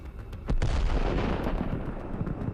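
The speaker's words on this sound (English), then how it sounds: "A moment later, we witness a tremendous explosion." A Russian Buk surface-to-air missile launcher explodes after being hit by a HIMARS strike: a sudden, loud blast erupts into a sustained, crackling roar with scattered pops trailing off.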